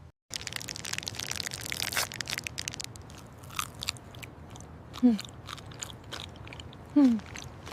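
A Snickers bar with caramel is bitten and chewed up close, giving crisp crunching and moist mastication with two distinct louder bites, and no talking.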